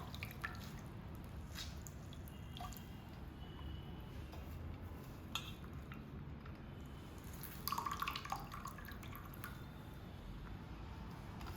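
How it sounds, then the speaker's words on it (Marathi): Faint, steady trickling and dripping of water squeezed by hand out of chopped banana flower, with a few soft squishy wet sounds and no talking. "सगळं पाणी असं गाळून काढायचं दाबून सगळं."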